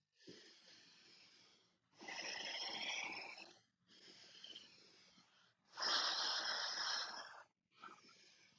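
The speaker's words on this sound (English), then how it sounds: "Breathing in and out." Slow yoga breathing, long airy inhales and exhales alternating in steady cycles of a few seconds each, close and fairly soft, with no talk over them.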